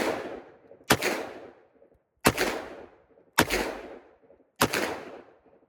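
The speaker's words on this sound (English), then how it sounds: "shooting with the recoil and everything, shooting in double action" Smith & Wesson 686 revolver fired double action: four loud, sharp gunshots spaced about a second apart, each with a decaying outdoor echo, no talking.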